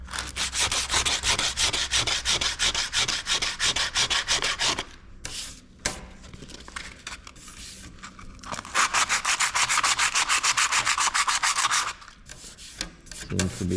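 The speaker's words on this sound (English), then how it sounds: "fresh 80 grit sandpaper from the DA" Dual-action sander with fresh 80-grit sandpaper grinding over cured epoxy, a loud steady rasping whir that drops to a quieter lull midway, then resumes at full strength before a few short stops near the end.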